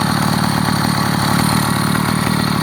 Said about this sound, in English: here's my 29-inch Huffy Millennium. 2-stroke. I got the speed carburetor on there.